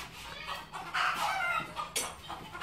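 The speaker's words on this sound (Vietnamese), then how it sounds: "Gà kêu quá rồi." Chickens clucking nearby in short, scratchy bursts, moderately quiet against a faint background hum, no talking.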